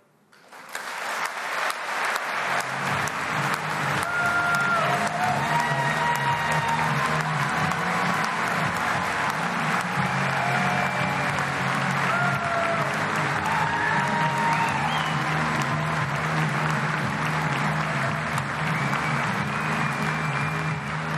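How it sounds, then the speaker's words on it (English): A party conference audience at the Aberdeen Exhibition and Conference Centre applauds Nicola Sturgeon after her keynote, the clapping swelling quickly into loud, sustained, dense applause with some cheering that carries on unbroken. "Nicola Sturgeon there taking the applause at the Aberdeen Exhibition and Conference Centre"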